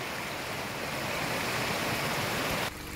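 Water rushes steadily down a small mountain waterfall along a road near Carbon River in Mount Rainier country, a loud continuous broadband splash close by with no voices.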